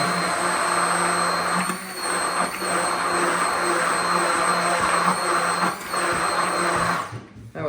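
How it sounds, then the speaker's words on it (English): A blender whirs at high speed through homemade mayonnaise with garlic, salt and pepper, a loud continuous motor drone with a few brief dips in pitch before it cuts off near the end. "I am going to blend this a little bit more."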